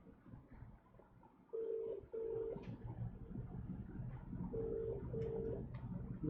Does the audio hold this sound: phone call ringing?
yes